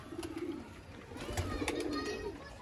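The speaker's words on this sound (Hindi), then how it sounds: "मियाँ नदीर ब्लड लाइन है तो लाजवाब कबूतरी है।" Pigeons coo softly in low, rolling calls, with faint background chatter and rustling nearby.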